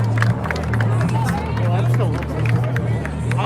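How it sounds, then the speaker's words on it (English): A protest crowd on Highway 94 in Minneapolis claps in scattered bursts during arrests, sharp claps mixed with crowd noise and nearby people talking. "They're clapping for every arrest."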